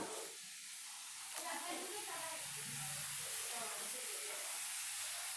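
Water poured into a hot wok of spiced potatoes sets off a steady, broad sizzling hiss that carries on without a break, fairly faint and close.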